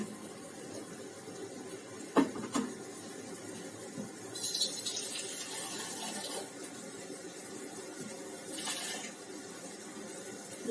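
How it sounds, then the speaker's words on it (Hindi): Water being poured or drawn from a tap in a home kitchen for making gravy, faint splashing and running bursts with a couple of clinks of a vessel against a quiet background. "इतने में मैं पानी ले लेती हूँ ग्रेवी के लिए।"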